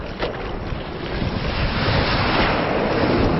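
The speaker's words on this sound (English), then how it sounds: "The waves keep going out deeper and deeper." Large surf breaking in typhoon conditions gives a steady roaring wash of waves, heavy with wind buffeting the microphone, loud and continuous throughout.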